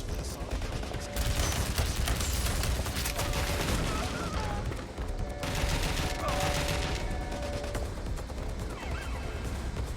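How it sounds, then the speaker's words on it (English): Gunfire in the video game Watch Dogs Legion crackles in dense, continuous bursts, loud and close, over a busy background with voices mixed in. "Shots fired!"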